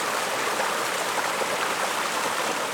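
A creek flows steadily near a backpacking campsite in the Cheaha Wilderness of Alabama, a constant close rush of water with no other sounds.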